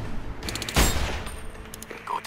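A loud close gunshot bursts out, followed by a rapid series of sharper shots and distant crackling in a battle soundscape from the video game Sniper Ghost Warrior 2.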